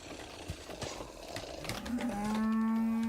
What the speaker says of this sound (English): Can I interest you in cow noises?